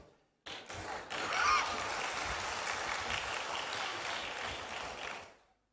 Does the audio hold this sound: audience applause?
yes